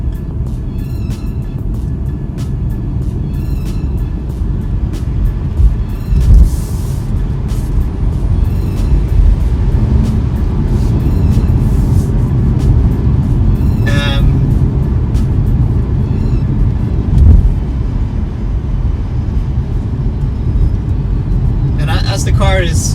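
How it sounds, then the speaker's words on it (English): Low, steady road rumble inside a Tesla Model 3 on big tyres with H&R springs, continuous and fairly loud throughout, with someone talking over it. "the Model 3 is a noisy car"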